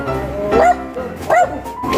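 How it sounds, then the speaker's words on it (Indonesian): A dog barks twice, with short yelping barks about a second apart, close and clear, over a light background hum. "Waduh, ada guguk."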